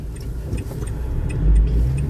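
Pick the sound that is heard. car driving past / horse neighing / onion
car driving past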